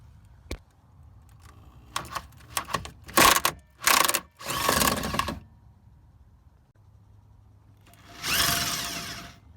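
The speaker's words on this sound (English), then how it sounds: "So we'll remove those four bolts and the one underneath" Several bursts of ratcheting come from a socket wrench loosening 18mm bolts on the rear shock mount of a Dodge Grand Caravan minivan. There are close clicks and quick clattering runs, then a longer ratchet burst near the end.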